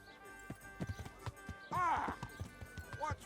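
A horse's hooves clip-clop steadily in the video game Kingdom Come: Deliverance, a regular run of close, distinct hoof strikes with a brief louder burst partway through, while people talk over it.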